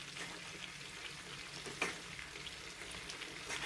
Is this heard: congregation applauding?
no